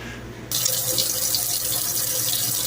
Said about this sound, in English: You got the water running.